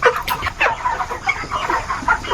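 Chickens cluck and squawk in agitated bursts as they are caught, loud and close, with irregular sharp calls and scuffling between them.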